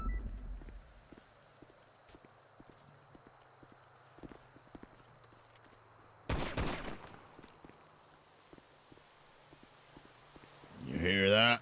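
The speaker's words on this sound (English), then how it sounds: "I'm shooting him." GTA V NoPixel roleplay gameplay with horse hooves clip-clopping steadily, then a sudden loud burst of rapid gunfire midway and another noisy burst at the end, as a voice talks.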